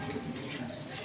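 A domestic pigeon kept at a pigeon club coos softly over a steady, noisy background in one short, continuous murmur.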